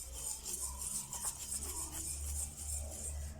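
Burfee mixture stirred in a pot, a faint, continuous soft scraping and rubbing of the spoon against the pot, quiet and close.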